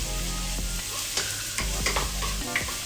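Leeks and shallots frying and being stirred in a pot for pumpkin and sweet potato soup, a steady close sizzle with several sharp clinks and scrapes of the spoon against the pot.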